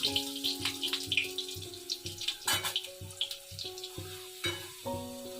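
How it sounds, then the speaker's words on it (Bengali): Potatoes fry in hot oil with an uneven bubbling sizzle and some splashing and stirring, set against steady tonal background sound. "তেলটা গরম হয়ে গেছে এবার আমি আলুগুলো দিয়ে দিলাম"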